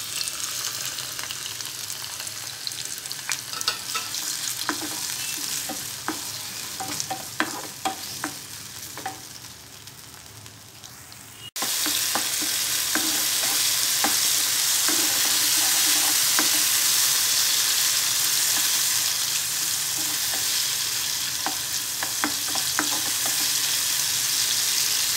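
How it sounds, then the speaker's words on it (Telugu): Tomato pieces cooking in the same oil used to fry chillies, a crackling sizzle with spatula scrapes and clicks, quieter at first then jumping to a louder, denser frying hiss midway. "మిరపకాయలు వేయించుకున్న ఇదే ఆయిల్లో టమాటా ముక్కలు మగ్గనివ్వాలి."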